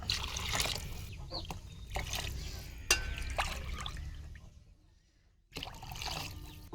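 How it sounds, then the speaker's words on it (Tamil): Water pours and trickles onto soaked rice in a pressure cooker in several bursts, with brief pauses between them, and a rooster crows faintly in the background. "இப்போ இந்த அரிசிக்கு தேவையான அளவுக்கு தண்ணி ஊற்றிக்கலாம்."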